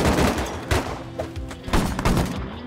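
Automated turrets firing in the survival game Rust at a raid base, a run of sharp repeated gunshot bursts with thuds, fairly close and loud, stopping and restarting across the moment.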